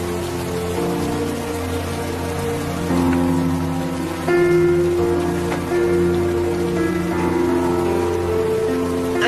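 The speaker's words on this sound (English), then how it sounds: "I think we need to get in out of the rain now." Steady rain falls during a small-town storm, a continuous hiss of drops beneath sustained tonal music, with no one speaking.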